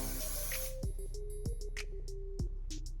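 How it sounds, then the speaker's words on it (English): Hairspray misted onto wand-curled hair, opening with a dense hissing burst followed by quieter short spritzes and faint clicks close to the mic, with a tonal hum running underneath. "scoop them up and then hairspray it this way"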